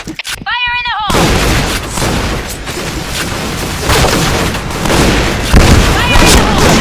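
Grenade blasts and gunfire in the shooter game Point Blank, shotgun mode on the Burning Hall map, with loud continuous booming explosions following a short synthetic announcer call.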